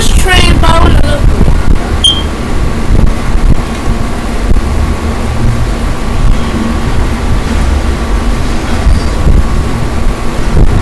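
A simulated MTA subway train in the Roblox game rumbles steadily and loudly throughout, a continuous low running roar with a brief tonal squeal near the start and faint voices underneath.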